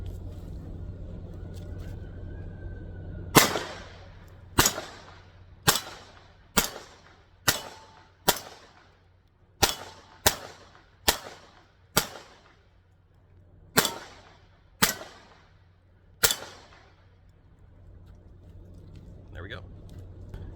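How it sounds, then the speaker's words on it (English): A Taurus TX22 Compact .22 pistol fitted with a Riton red dot optic fires about thirteen sharp, loud shots at a 12-yard outdoor range, spaced roughly a second apart with brief echoes between them. "we're gonna take some more shots from our 12-yard mark here."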